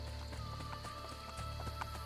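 Horse hooves clip-clop at a steady trotting rhythm in the video game Assassin's Creed Brotherhood, faint and layered over continuous game ambience, with no talking.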